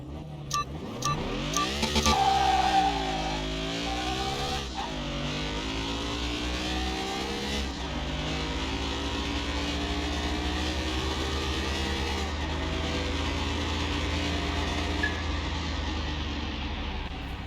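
A Porsche 911 revs and races in Car Mechanic Simulator 2021, its engine note climbing and shifting through gears in loud, continuous sweeps with no talk over it.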